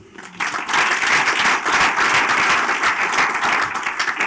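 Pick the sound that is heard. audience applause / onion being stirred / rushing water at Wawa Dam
audience applause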